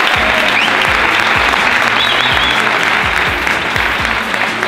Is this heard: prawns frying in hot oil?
no